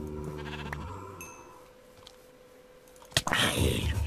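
Sheep bleating as they are killed in the video game Minecraft: a couple of short nasal bleats near the start, then a quieter stretch, then a sudden sharp hit followed by a loud burst of sound.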